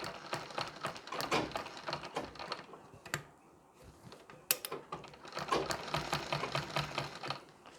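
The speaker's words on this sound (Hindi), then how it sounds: "एक एक पिन निकालते जाएंगे और सिलाई लगाते जानी है" A sewing machine stitches pleats on a Nauvari saree, running in quick rattling bursts with a brief pause midway, close and moderately loud, with small clicks and handling noises between runs.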